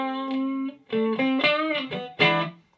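A Stratocaster played through the clean channel of a modified Fender Blues Deluxe amp rings out in a short run of clear picked notes and chords, sitting close and loud with no other sound behind it.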